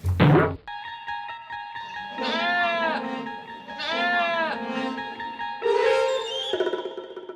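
A short knock at the start, then young goats bleat in several long, wavering cries, loud and close, one after another.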